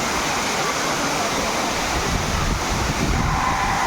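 Savatsada waterfall in Konkan during the monsoon: a steady, loud broadband roar of rushing water that fills the whole stretch without pause, with no speech over it.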